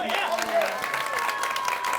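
Members of the Sigma Lambda Gamma sorority make up a live studio audience and clap and cheer for two track and field athletes, a dense patter of applause running steadily throughout, with voices mixed in.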